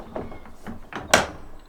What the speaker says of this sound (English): Well, I'm going to see if the door is open.